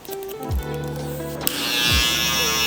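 Electric hair clippers fitted with a number 3 guard buzz steadily up close during a mullet and high skin taper cut, the motor pitch shifting slightly as they start and move through hair.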